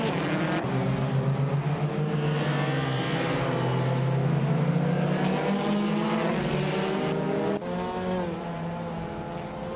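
Several race car engines roar together at high revs throughout, a dense, steady drone with shifting pitch as the cars jostle for position, loud and continuous with no talk.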